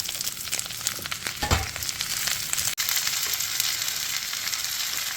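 Chopped vegetables with turmeric frying in oil for a Punjabi vegetable pickle, a continuous bright sizzle with a brief louder stirring scrape partway through and a sharp click near the middle.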